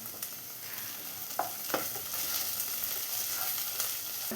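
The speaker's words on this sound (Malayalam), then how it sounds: "ഇനി നമുക്ക് ഇതിലോട്ട് അല്പം ജിഞ്ചർ ഗാർലിക് പേസ്റ്റ് ആഡ് ചെയ്ത് കൊടുക്കണം" Ginger garlic paste frying in a pan for a green peas kurma, a soft steady sizzle with a few sharp stirring clicks of a spoon, close but quiet.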